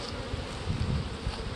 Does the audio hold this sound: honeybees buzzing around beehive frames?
yes